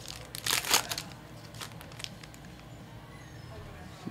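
Upper Deck hockey card pack wrappers crinkle and tear in a few loud, close bursts early on, then quieter rustling continues.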